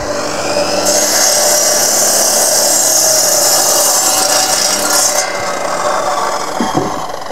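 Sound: power cutting blade cutting through nails

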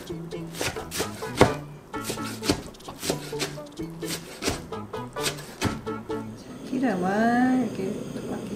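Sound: knife chopping blanched greens

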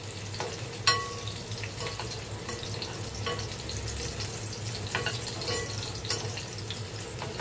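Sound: garlic sautéing in a pan

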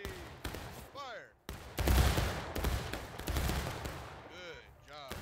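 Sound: Confederate firing line musket volley in War of Rights, video game

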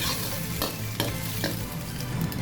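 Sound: stir-frying shrimp in a pan

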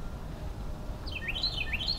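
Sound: birds chirping in a winter garden

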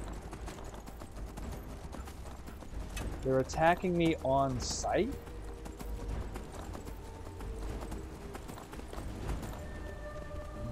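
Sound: horse hooves galloping in Skyrim video game

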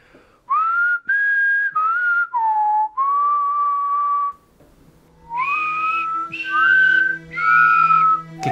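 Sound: people whistling

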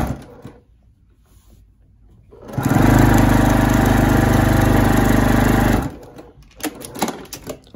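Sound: sewing machine stitching quilt block seam

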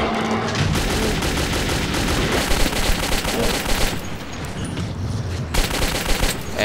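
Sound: gunfire at enemies in Metro 2033 video game

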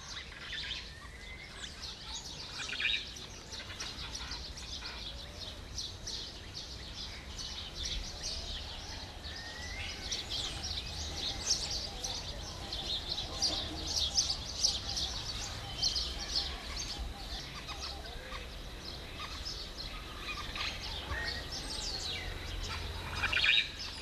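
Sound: exotic birds calling in Mauritius native forest

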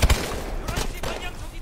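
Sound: gunfire in the video game Call of Duty

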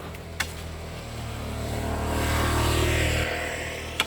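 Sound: motorcycle passing by on the street

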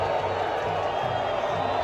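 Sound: stadium crowd booing football players after match

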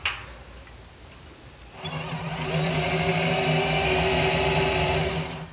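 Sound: drill boring into washing machine agitator shaft

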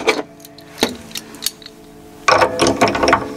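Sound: nylon string guitar tuning peg being turned to tighten string

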